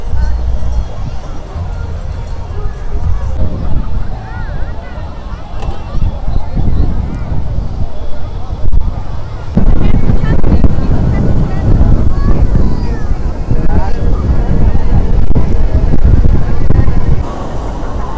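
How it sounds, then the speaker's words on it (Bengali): Strong sea wind blowing at Puri beach on the Odisha coast at night, buffeting the microphone in heavy gusts that swell louder midway, with distant surf rolling beneath and no clear speech. "হাওয়া যা দিচ্ছে না, শুধু হাওয়াটা উপভোগ করছি।"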